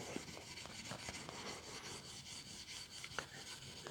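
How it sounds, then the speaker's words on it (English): A guitar headstock and neck being rubbed with 4/0 steel wool, a quiet, continuous close scrubbing with rhythmic back-and-forth strokes and faint scratchy ticks. "the next thing I'm going to do is take some steel wool"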